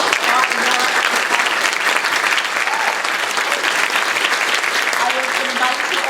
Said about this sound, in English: A resounding applause for this partner.